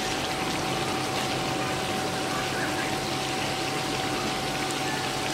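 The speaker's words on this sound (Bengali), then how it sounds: "দেখুন কি সুন্দর বলক ওঠা শুরু করেছে।" Shredded potato for crispy jhuri aloo bhaja frying in hot oil, a dense steady bubbling hiss that stays loud and even throughout, with no talk.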